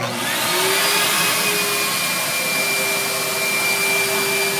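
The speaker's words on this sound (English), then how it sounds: "You're gonna flip this over to get the vacuum motor going." A boat's vacuum motor roars loudly and steadily, a constant high whine with no breaks.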